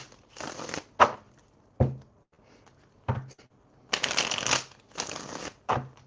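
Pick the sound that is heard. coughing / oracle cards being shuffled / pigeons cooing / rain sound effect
oracle cards being shuffled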